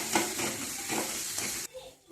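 A paste of garlic, ginger, green chili and coriander frying in oil for vada pav: bright sizzling with rhythmic stirring scrapes, cutting off abruptly near the end.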